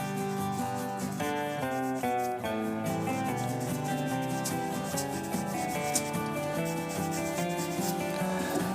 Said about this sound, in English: Just to take out any of the deeper score marks from the sandpaper.